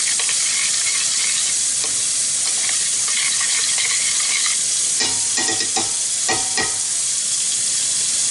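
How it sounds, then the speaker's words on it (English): A turmeric paste mixture is stirred in a pot, a loud close scraping and swishing against the pan with a constant hiss underneath and a cluster of sharper knocks near the end. "Give this a little stir."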